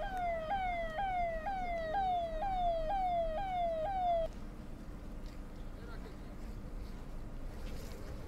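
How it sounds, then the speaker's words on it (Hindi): An ambulance siren wails, sweeping up and down repeatedly for several seconds, then cuts off, leaving quiet street noise behind. "जैसे ही 4 एम्बुलेंस की सायरन की आवाज सुनाई दी"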